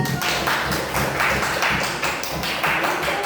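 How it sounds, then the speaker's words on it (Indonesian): Students in a fourth-grade classroom clap for a group's presentation, a thick, continuous wash of many hands clapping with a loose pulsing rhythm, close and steady throughout. "Tepuk tangan"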